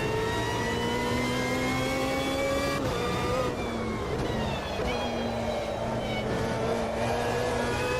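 A race car engine in a racing video game revs loudly and continuously, its pitch climbing and dropping through gear changes across the whole stretch, with no voices over it.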